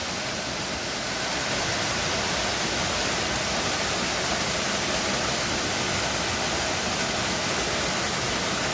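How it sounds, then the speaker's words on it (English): A waterfall in Northern Thailand roars in a steady, broadband rush, heard close and continuous with no talking. "I think we've reached the main bit of the waterfall."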